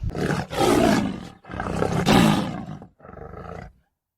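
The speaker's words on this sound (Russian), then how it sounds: "лев ревет" Three deep, rasping lion roars come in succession, the first two long and powerful, the last shorter and weaker, heard close and without talk.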